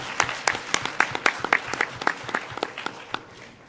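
Applause at the closing of an international conference: a sparse crowd clapping in quick, uneven bursts, moderately close and steady throughout.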